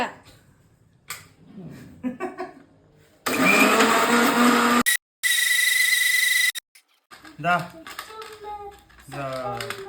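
A kitchen mixer grinder whirring loud and close in two bursts while grinding tomato chutney, with a brief stop between them and people talking before and after.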